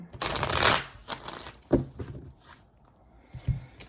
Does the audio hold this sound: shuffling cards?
yes